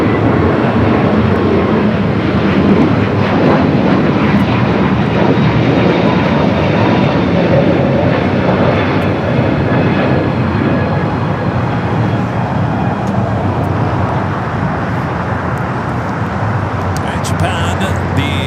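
An airliner rolling for takeoff on runway 25 right at LAX, a broad steady jet roar that fills the whole stretch without a break.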